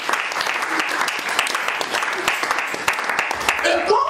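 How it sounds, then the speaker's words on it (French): Church congregation at an evangelical seminary applauding and cheering, dense sustained clapping filling the room with no gaps, a few voices rising through it near the end. "Si tu es là, tu peux acclamer pour la gloire de ta part."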